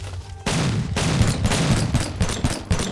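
Turret gunfire in the video game Headhunter: a loud, sustained volley of rapid shots that starts abruptly and continues as overlapping, repeated bangs close up.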